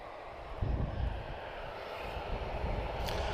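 An airliner arriving at Lisbon Airport from Birmingham gives a broad, steady engine roar with low rumbling, heard at a distance and with no talk.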